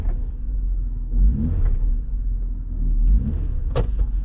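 A first-generation Toyota Tacoma with an AIRAID intake revs up close by, with two deep throaty swells of engine rumble and a sharp brief click near the end.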